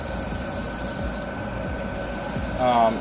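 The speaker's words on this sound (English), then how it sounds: "This airbrush has been great." An airbrush sprays paint onto an MG 1100 scale model car, a steady close hiss that dips briefly and then resumes.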